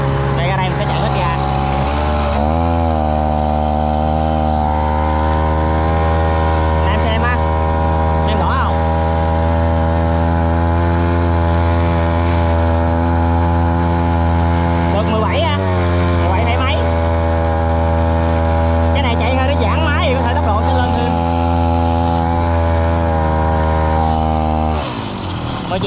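A grass cutter engine drives a long-tail boat propeller at full throttle, a loud, steady buzzing drone that runs nonstop throughout, close up and dominating.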